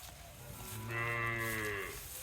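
A four-tooth Gir breed cow with a calf, standing on a cattle farm, lets out one long, clear, tonal moo that rises and holds, close and fairly loud, with no voices over it.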